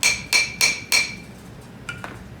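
Four sharp metallic hammer strikes in steady rhythm, then two lighter taps with a duller, ringing tone as a wheel bearing race seats firmly, bottoming out in a rotor.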